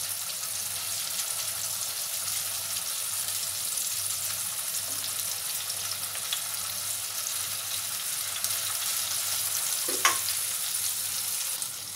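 Chicken breast frying in a pan on a stovetop, giving a steady, even sizzle throughout with a faint clink partway through.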